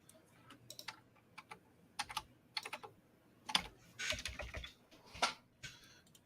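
Faint, irregular typing on a computer keyboard: scattered single clicks and short bursts of keystrokes with brief pauses between them, heard alone and fairly quiet.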